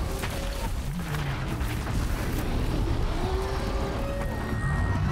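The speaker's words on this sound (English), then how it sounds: "They're just exploding all over the place." Explosions keep going off in Horizon Zero Dawn during a chaotic fight, with heavy booms and low rumbling running in a continuous dense wash that stays steady and loud from start to finish.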